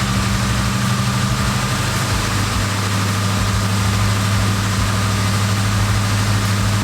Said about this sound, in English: it's already idling right now better than it's idled like in probably the past 2 years